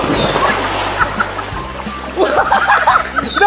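A person jumps into a cold stream with a loud splash and sloshing water, then more splashing follows while voices and laughter carry nearby.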